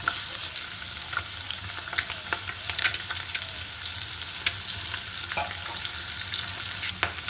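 Onions, green chillies, cinnamon sticks, cardamom and bay leaf frying in oil, a dense continuous hiss with scattered crackles and occasional spatula scrapes, near and steady without speech.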